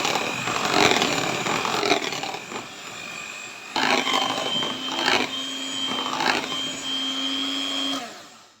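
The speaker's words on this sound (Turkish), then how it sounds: "pürüzsüz hale gelinceye kadar çırptım" An electric hand mixer whirs steadily as it whisks cake batter with added flour, a loud continuous motor drone that shifts pitch and load in several passes, with brief pauses between bursts.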